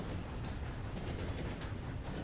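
Rumbling, rattling train from the Sundown RP video game, a steady low clatter running continuously at moderate level with no talk over it.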